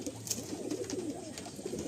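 Pigeons coo continuously in a loft, several low rolling calls overlapping at moderate volume with faint rustling, no voices.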